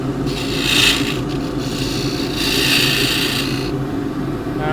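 A 3/4 inch (19mm) square end scraper cuts splintery she oak spinning on a lathe, giving a continuous close rasping hiss over the motor's hum, with two louder swells as the cut deepens.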